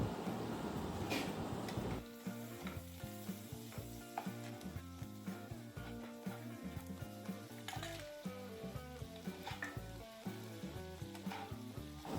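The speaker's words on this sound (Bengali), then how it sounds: "ওর মধ্যেই আমি কাঁকড়া ভাজা গুলো দিয়ে দেবো" Fried crab pieces cook in spices with a loud, steady sizzle in a hot pan, punctuated by the scrape and clatter of stirring throughout.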